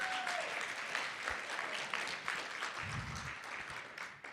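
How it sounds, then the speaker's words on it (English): Audience members at a State of the City event clap for the Minnetonka Rotary, a steady, fairly faint patter of many hands that holds evenly and tapers slightly at the end. "Let's give them a round of applause for being here."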